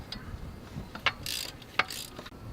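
Hand ratchet fitted with a 1/2 inch socket working loose a bracket on a 2004 Ford F150 during a water pump job, giving a few short, close clicking bursts with quiet pauses between.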